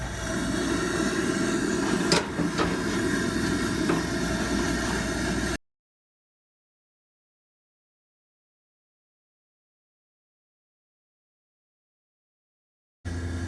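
Antique Coleman 425 stove burner running on kerosene, giving a steady, close broadband roar with a brief tick or two, then a long stretch of silence before the roar briefly returns.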